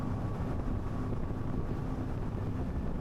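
A SAY 52 boat accelerates across open water off Ibiza, its engine a loud, steady low roar layered with rushing water and wind buffeting the microphone, continuous throughout with no voices.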